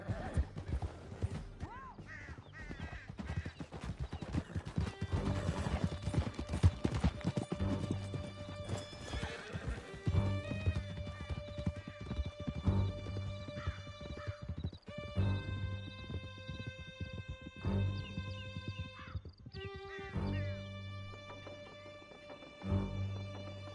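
Several horses gallop in Red Dead Redemption 2, a rapid, continuous pounding of hooves close by, with horses neighing and whinnying at intervals over a sustained rumble.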